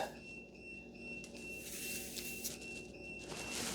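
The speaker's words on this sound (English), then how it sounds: "That's the alarm that you'll get if your pressure goes down." A thin, steady electronic tone sounds continuously at low volume, a SYKIK motorcycle tire pressure monitor's low-pressure alarm beeping nearby, with quiet background hum.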